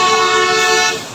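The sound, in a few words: car horns honking in traffic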